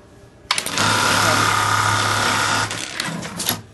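AMS210 emblem sewing machine stitching an emblem, a loud, steady mechanical whir with a low hum that starts abruptly and runs about two seconds before stopping, followed by brief clicks.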